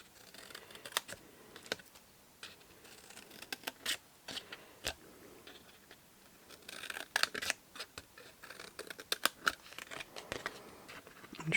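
Scissors snip repeatedly through paper while trimming pieces for a small no-glue mini favour box, a close, quiet series of crisp cuts in uneven bursts with short pauses, no talking.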